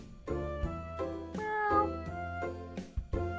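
Repeated cartoonish meows from cats in the hidden-object game Cats Hidden, several clear, tonal calls in quick succession, moderately loud and alone without talk.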